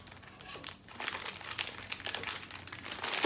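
A paper envelope crinkling as it is opened, close and steady with continuous rustling and crackling and no talk.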